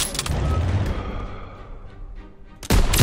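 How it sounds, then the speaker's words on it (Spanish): Heavy booming gunshots in Call of Duty: WWII, a loud burst at the start and another sharp blast near the end, with a rumbling tail between. "Me encanta el sonido de cuando dispara"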